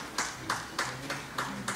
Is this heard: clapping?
yes